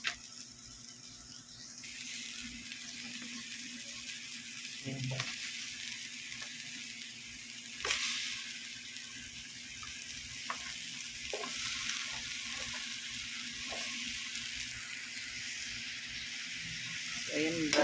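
Squash pieces added to a pan with chicken, sizzling steadily while being stirred, soft scrapes and taps breaking through a continuous frying hiss at moderate loudness.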